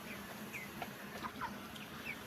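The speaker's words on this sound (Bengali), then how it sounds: "এখানে কিছু ব্রয়লার মুরগি আছে, কিছু টাইগার মুরগি" Broiler and tiger chickens on a farm give off soft, scattered clucks and short calls, faint and fairly distant against a quiet background hiss, with no one talking.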